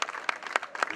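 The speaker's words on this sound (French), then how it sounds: "C'est parti donc pour les applaudissements." Brief, close burst of crowd applause for a Dinan Sport Cycling rider at a stage 4 podium ceremony of the Essor Breton 2022 race in Saint-Pol-de-Léon; several sharp clap peaks stand out over a dense patter.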